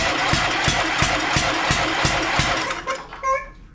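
A John Deere LA130 lawn tractor engine cranks over on the starter during a compression test, a steady rhythmic chug of about ten even strokes, close and loud, before winding down and stopping.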